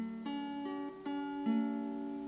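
An acoustic guitar tuned a half step down rings out chords, several strums in quick succession each sustaining, quiet and close with no voice.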